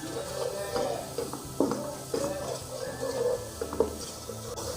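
Chicken coated in masala and red chili powder being roasted on a tawa in restaurant style, with repeated scraping and stirring of a metal spatula against the pan and soft clatter, fairly close and steady, with no talk.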